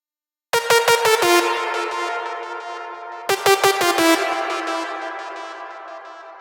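Drum and bass lead synth preset made of two saw waves, played as two bright, buzzy phrases of quick repeated stabs, each held and slowly decaying, loud and alone.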